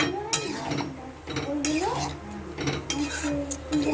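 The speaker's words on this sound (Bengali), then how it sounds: "মশলা আবার এটাকে মিশিয়ে দিলাম" A utensil scrapes and clinks against a metal pan while spice masala is mixed into ghugni, with irregular scraping strokes and faint background voices.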